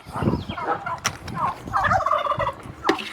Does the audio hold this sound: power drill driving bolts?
no